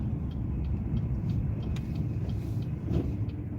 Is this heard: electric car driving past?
yes